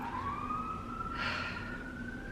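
An emergency vehicle siren wails outside, its rising tone fairly faint and muffled through the walls, over a steady low rumble of traffic.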